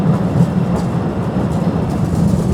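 Small tourist train running through Postojna cave in Slovenia, a steady close rumble and rattle of the carriages rolling on without pause.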